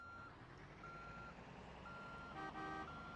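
Bus reversing in the BeamNG.drive video game: a steady intermittent reversing beeper pulses over a low engine rumble, fairly faint and distant, with no voices.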